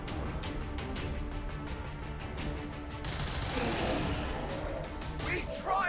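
Rapid bursts of gunfire from XCOM 2 crackle in dense volleys, first as a stream of sharp repeated shots, then as a heavier, noisier barrage with scattered impacts.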